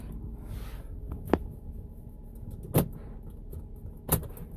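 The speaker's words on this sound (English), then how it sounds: "door locks." Power door locks on a 2005 Cadillac CTS actuate three times, each a short sharp clunk spaced about a second and a half apart, close and clear over a quiet cabin hum.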